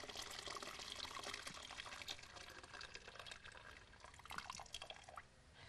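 Water, 1.5 liters of it, pours into a pot of caramelized sugar while cooking date khabisa, giving a continuous close splashing and trickling that fades slightly near the end.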